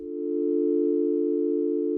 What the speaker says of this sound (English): if I play some notes, we hear a simple sine wave patch